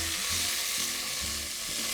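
Strips of beef fillet sizzle and fry in a pan, a steady loud hiss with soft stirring underneath, close and continuous with no voices.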